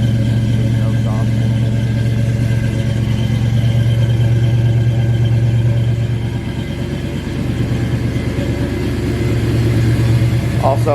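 A 1968 Ford Mustang 302 V8 longblock running without exhaust at high idle gives a steady, loud, close rumble throughout, with brief faint voices in the background.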